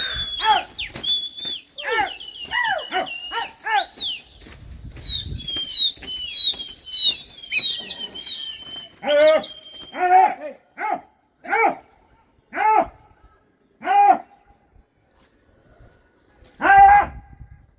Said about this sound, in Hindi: अपने आप ही उड़ गया कबूतर।